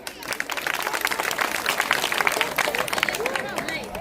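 A village school festival crowd in Gujarat claps for a teacher in a short burst of dense, energetic applause, steady and fairly close throughout.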